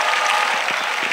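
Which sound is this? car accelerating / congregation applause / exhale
congregation applause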